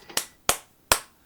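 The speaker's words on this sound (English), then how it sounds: "I have to clap for that." Hands clap three times, each sharp, close clap spaced unevenly, with near silence between the claps.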